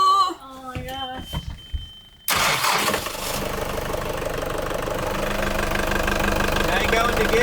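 A boat engine cranks and catches during an emergency haul-out, then settles into a loud, steady running rumble with a rough knocking beat. It follows a few seconds of quieter clattering and voices.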